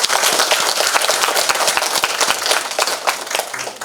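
An audience at a memorial ceremony applauds with brisk, loud clapping, sharp individual claps standing out from a steady crowd wash, fading slightly toward the end.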